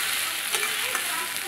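Poppy seed paste stirs and fries in a pan, giving a steady close sizzle with soft scraping strokes throughout and no talk.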